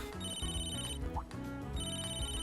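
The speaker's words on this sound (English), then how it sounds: "And of course we get a phone call at this very moment." A phone in the video game Tokyo Xanadu EX+ rings with a repeating electronic ringtone melody in bright pulsed tones, steady and fairly loud, pausing briefly midway before resuming.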